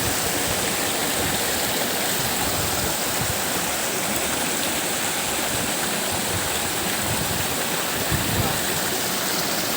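A waterfall pours steadily beneath a broad rock ledge, giving a dense, continuous roar of rushing water from start to finish, with no break and no voices.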